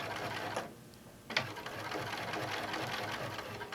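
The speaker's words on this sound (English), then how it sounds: "All right, do a little back stitch." A sewing machine runs a short back stitch through fabric, a steady rapid whirring hum that pauses briefly, then restarts and keeps stitching evenly.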